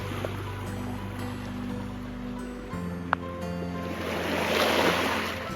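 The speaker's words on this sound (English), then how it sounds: "Look at those waves." Ocean waves wash against a rocky beach in November, a steady broadband surf wash that swells louder toward the end, with a low rumbling hum early on and a brief sharp click midway.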